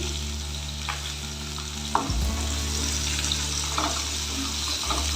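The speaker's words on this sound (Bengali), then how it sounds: "ভালো করে নেড়ে ছেড়ে ভেজে নেব কাঁচা লঙ্কাও দিয়ে দিচ্ছি" Green chilies sizzle and fry steadily in a pan for a fish curry, with occasional scraping stir strokes and a brief clatter near the start of the second second, no voices.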